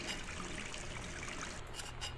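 A toilet flushing in the video game Gone Home, a steady close rush of running water that thins into trickles near the end.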